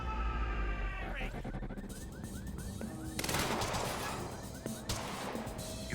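Gunfire rattles in the video game Quantum Break, rapid bursts of automatic shots mixed with game effects and combat noise, dense and continuous.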